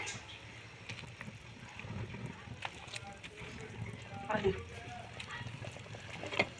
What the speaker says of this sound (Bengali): ঝোলটা ফুটে গিয়েছে এখন আমি মাছগুলো ছেড়ে দেবো একটা একটা করে